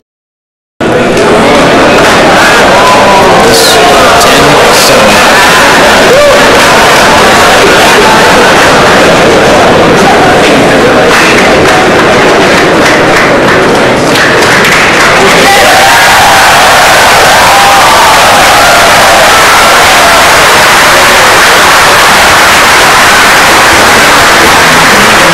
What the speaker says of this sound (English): Crowd voices their approval of this result.